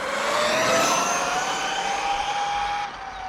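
A Ming Yang Black Panther RC car with a 1700kv motor on 6S drives past with a loud, high electric whine that rises and slowly shifts pitch, then drops in volume near the end.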